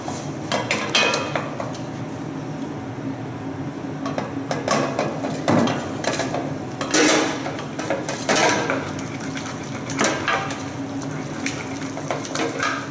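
Eggs being mixed one at a time into a dessert batter in a bowl, with repeated clinking and scraping of a utensil against the bowl in an uneven rhythm, close up and with no talk.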